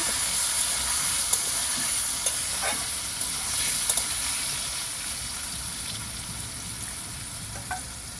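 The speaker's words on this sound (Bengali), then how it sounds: "আমি আলুগুলো ভালো করে ভেজে নেব" Potatoes fry in hot oil with turmeric, giving a steady, dense sizzle that holds close and loud throughout, with a few faint utensil clicks and stirring scrapes on top.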